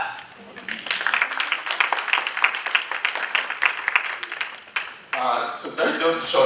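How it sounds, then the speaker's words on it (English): An audience at an information technology and network security conference session applauds with brisk, fairly close clapping that breaks off near the end as a voice starts speaking. "Please feel free to clap."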